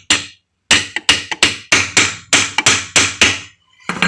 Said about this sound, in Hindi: तो इसको प्रॉपर तरह से ठोकेंगे।